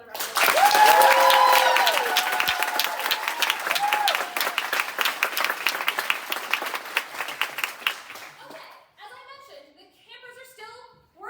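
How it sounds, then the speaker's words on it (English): A theater audience at a performance of Henry VI, Part 1 gives a sustained round of loud applause, which thins into scattered claps before a voice starts speaking at the end. "Please give them another round of applause."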